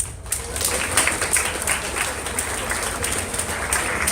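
A room of bootcamp participants claps together during a Simon Says game, a continuous, even wash of many hands that carries on without pause at moderate level.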